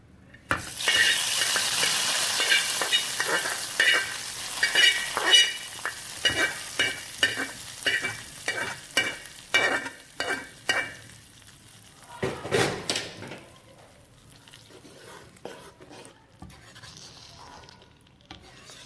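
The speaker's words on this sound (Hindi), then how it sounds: "बघार तैयार हो चुका है। कड़ी में शामिल करेंगे।" Hot baghar tempering poured into kadhi sizzles loudly at first, then a series of rhythmic stirring scrapes and bubbling pops fades down as the pan settles, with a few clinks near the end.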